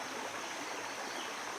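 Water from a homemade ram pump rushes in a steady, continuous flow close by. A lid cut from a football opens and closes on its own, but its clacking cannot be picked out above the water.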